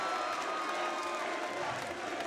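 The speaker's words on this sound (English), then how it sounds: "The crowd has reacted absolutely wildly" A boxing crowd at a varsity bout roars and cheers wildly after the judges' decision, a dense, loud, continuous wash of voices with no single voice standing out.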